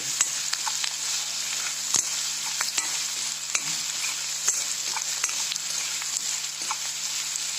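Onions and curry leaves fry in a pan, giving a steady close sizzle broken by scattered scrapes and clicks of stirring.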